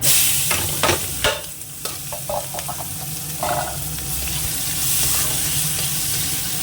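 Chopped onion hits hot oil with dried chilies and cumin, starting with a loud burst of sizzling, then a steady hiss broken by a few scraping stirs and clinks, close up, with no voices.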